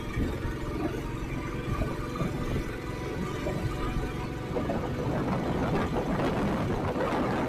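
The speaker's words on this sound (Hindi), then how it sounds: "आवाज देख रहे मोटरसाइकिल कैसे चेंज हो गई अपना।" Motorcycle engine laboring continuously on a steep mountain road climb in Spiti, a steady loud drone with rising intensity toward the end, no talking.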